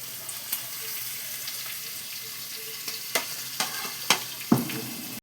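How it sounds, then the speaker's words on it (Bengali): Chicken pieces frying in oil in a pan give a steady close sizzle, with a few sharper spatters and clinks near the end, and no talking. "এটা দিয়ে আমি ভেজে নেব। দেখো কেমন লাল লাল ভাজা হয়ে গেছে।"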